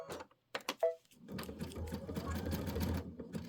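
A Kimberbell embroidery sewing machine stitches bat embellishments onto a Pumpkins and Potions project, running in a steady rapid mechanical clatter after a few brief starting clicks and a short beep.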